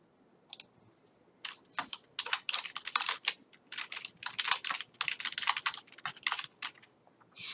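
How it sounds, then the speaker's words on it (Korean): A computer keyboard clatters with quick bursts of typing while a message is entered in Excel, close, crisp key clicks in irregular clusters after a short pause, with no voice. "설명 메시지를 입력을 하는 거예요."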